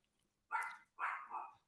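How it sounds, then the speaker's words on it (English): A dog barks indoors, two distinct woofs about half a second apart, the second drawn out, fairly faint against an otherwise quiet room. "the dog's barking"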